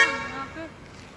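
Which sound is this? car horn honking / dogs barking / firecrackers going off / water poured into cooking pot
car horn honking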